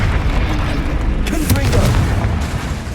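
Spell explosions in a game, a loud deep boom rumbling through a busy low-frequency roar with scattered bursts, a voice shouting over the blasts.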